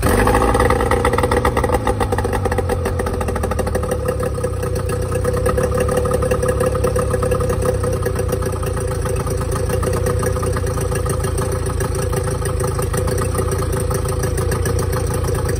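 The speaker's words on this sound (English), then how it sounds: "this is my 2007 Yamaha 25 horsepower 2-stroke outboard motor, short shaft" A 2007 Yamaha 25 hp two-stroke short-shaft outboard motor runs steadily on water flush after a carburetor tune, its buzzing idle loud and close, holding an even rhythm throughout with no talk.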